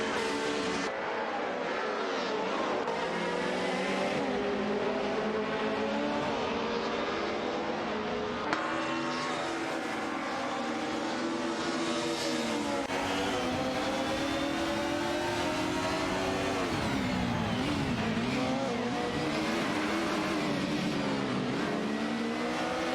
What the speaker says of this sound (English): We are watching AI-driven racing cars in a virtual racing simulator.